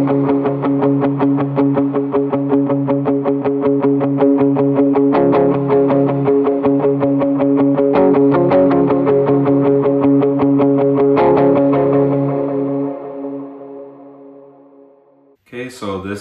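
Electric guitar through a Strymon Iridium worship pedalboard on a reverb preset, strummed chords ringing with rhythmic repeated attacks and a long shimmering reverb tail that fades out before a brief final strum.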